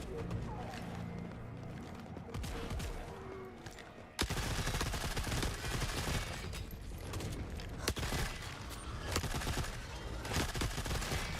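Gunfire from snipers and other weapons in the video game Forever Winter, a dense, continuous barrage of shots and explosions, loud and busy, with a player talking at times over the action.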